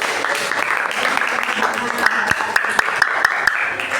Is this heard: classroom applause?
yes